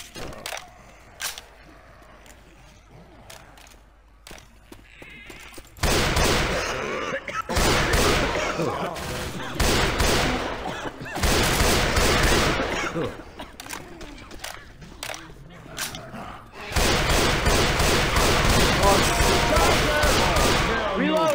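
Gunfire in Left 4 Dead 2 plays out in long loud bursts of rapid shots separated by quieter stretches, with scattered single cracks between them and a voice talking now and then.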